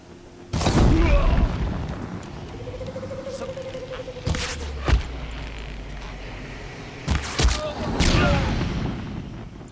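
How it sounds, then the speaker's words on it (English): Explosions in Horizon Zero Dawn: a deep, loud boom with rolling rumble opens, followed by two more heavy blasts a few seconds apart over a steady game background. "did those guys not hear the explosion?"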